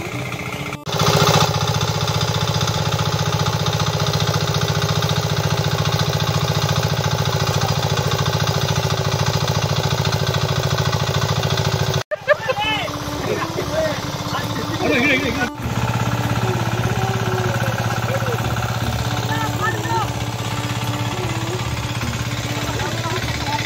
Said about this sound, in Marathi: शेती नांगरणी चालू झालेलं आहे